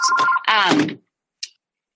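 A phone rings with a steady electronic tone through the first second, partly overlapped by a short burst of nearby talk, followed by silence and one brief faint chirp.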